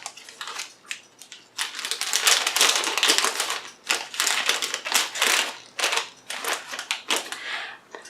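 Scissors snip and slice through a package along its dotted line, a steady run of crisp crunching cuts in bursts, close and fairly loud with no speech over them.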